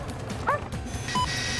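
A police dog gives a brief yelping bark, faint and somewhat distant, over a low rumbling background during a night pursuit of robbery suspects in London.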